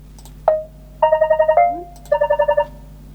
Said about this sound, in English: So I'm going to hit the default one so you can hear it. You're probably used to that sound.